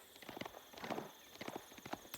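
Hooves of a saddled horse clip-clop in Age of Empires 4, a quick, light run of clattering steps with a faint whinny, fairly quiet.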